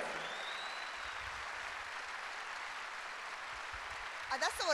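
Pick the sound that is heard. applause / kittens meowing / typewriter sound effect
applause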